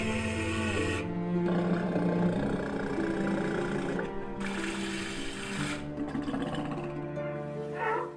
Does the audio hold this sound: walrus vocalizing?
yes